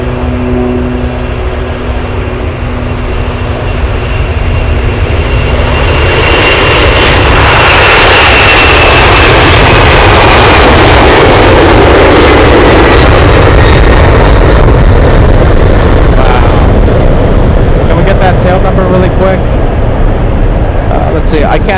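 Boeing 747 and other jet airliner engines roar at Anchorage airport, a broad loud rumble swelling from about six seconds in and holding strong, with a rising whine over the steady background.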